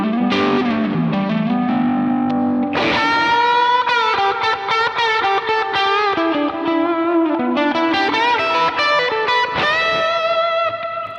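Bright, chimey Vox-style electric guitar played through a Kemper amp, ringing chords and melodic lines with a glassy top end, loud and continuous with light effects and distortion, no talking.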